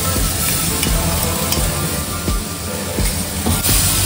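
Onion, ginger and garlic paste frying loudly in a pan, a dense steady sizzle with occasional stirring scrapes throughout, close and continuous.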